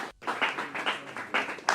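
A school audience at a quiz show awards ceremony claps in faint, scattered bursts, soft and brief.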